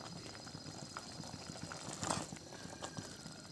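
Flour thukpa noodle soup boils in a pot, giving a soft, steady bubbling and hiss that stays faint and even, with a slight swell near the middle and no voices.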